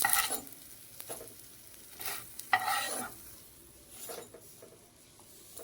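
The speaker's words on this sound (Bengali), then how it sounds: "এদিকে বড়া ভাজছি" Oil sizzles softly and continuously as fritters fry while a utensil stirs and scrapes in occasional bursts, with no talking.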